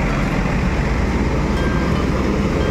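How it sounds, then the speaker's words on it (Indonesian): An ANS Luxury Class coach pulls out of Kampung Rambutan bus terminal with a steady, loud, low engine rumble and road noise that holds even from start to finish. "ANS Luxury Class kedua meninggalkan Terminal Kampung Rambutan."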